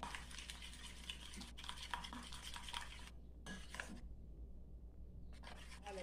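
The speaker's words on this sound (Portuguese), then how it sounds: "Só mistura bem." A cream filling is stirred in a bowl with a utensil for a breaded bertalha recipe, a steady scraping and clinking against the dish that is close but soft and pauses briefly partway through.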